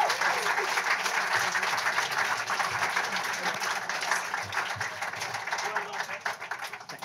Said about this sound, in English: Round of applause to yourselves and backbenchers.